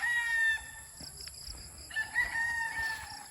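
White Kelso gamefowl roosters, about eight months old, crow in sustained calls with scattered clucks, fairly close and loud at the start and again later, over faint background noise.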